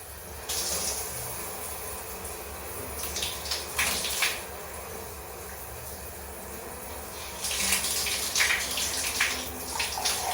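Shower water running while someone rinses off, a steady hiss with two louder gushing bursts partway through and near the end, close by.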